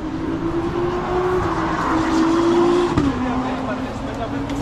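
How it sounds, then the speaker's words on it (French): An Audi RS3 race car engine drones steadily at close range as part of a loud convoy, holding a sustained tone with a slight pitch drop near the end, with a constant broadband roar underneath. "Donc le fameux moteur RS3, incroyable."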